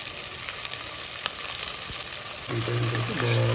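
Chicken frying with ginger-garlic paste in a pan for an onion and dried red chilli chicken fry, a steady loud sizzle that swells near the end with a low hum and brief clinks.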